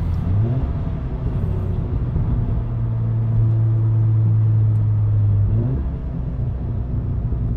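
Steady close-up rumble from a Stage 1 tuned 2018 VW Golf R MK7.5, its exhaust burbling as the revs lift and hold for a few seconds before settling back to a low idle.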